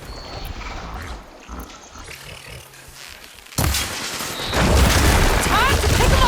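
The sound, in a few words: glowing crystals exploding in Horizon Forbidden West video game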